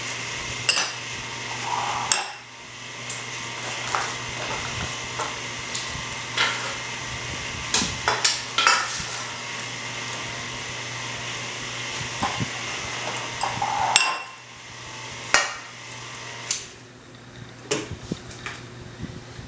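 An electric mixer runs through coconut cake batter after shredded coconut is added, a steady whirring hum with clattering knocks against the bowl, close and fairly loud, stopping briefly midway before resuming.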